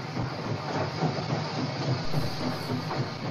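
Magma Arizona Railroad steam locomotive Magma #5 runs with a steady, dense rumbling roar and hiss, continuous and fairly loud throughout with faint rhythmic clanks.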